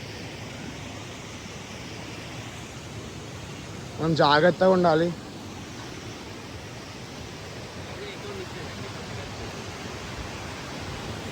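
Steady broadband rush of Dudhsagar waterfall in South Goa at reduced flow, constant and enveloping throughout, with someone speaking briefly midway over the roar.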